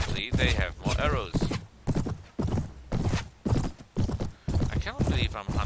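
Horse hooves gallop in rapid, loud clip-clop bursts in the Mount & Blade game while hunting knights on horseback, with occasional whinnies in the mix.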